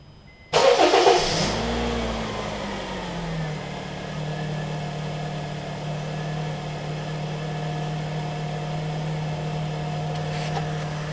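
A 2007-2008 Honda Fit engine, fresh from a spark plug change, cranks and starts with a brief loud burst, revs once, then settles into a steady, even idle that runs on for several seconds.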